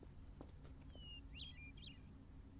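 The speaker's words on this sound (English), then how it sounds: "Oh, it was a bird." A bird in a video game map gives a few short, faint whistled chirps over a low ambient hum.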